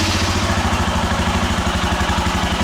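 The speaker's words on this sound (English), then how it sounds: "let's do the standard exhaust sound test." A Royal Enfield Himalayan motorcycle idles through its exhaust, a steady, close, deep chugging pulse with an even rhythm and no voices.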